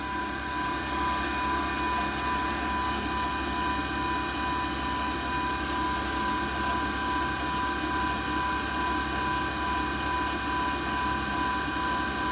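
A PM-728VT CNC mill running, a steady mechanical whir with high tonal whine and gear-like rattle, continuous and even throughout with no talking.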